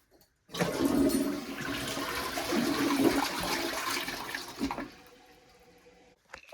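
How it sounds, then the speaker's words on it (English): A newly installed Glacier Bay Power Flush toilet is test-flushed with a little paper, giving one strong, close rush of water lasting about five seconds before it tapers off into quiet refilling, with no talking. "let's give it another test flush with a little bit of paper"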